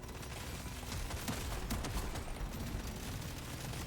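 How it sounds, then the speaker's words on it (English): Piercing minigun fire in the video game Deep Rock Galactic: Survivor, a continuous dense rattle of rapid shots with heavier bursts partway through, loud and unbroken, without any talk. "thanks to that piercing minigun, we're actually able to fight them off"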